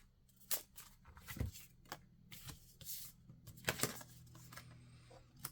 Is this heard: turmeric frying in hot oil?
no